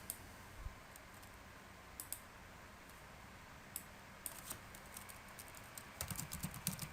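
Keys clatter on a computer keyboard as a document title is typed, quiet scattered clicks in short bursts with a denser flurry near the end, no voices.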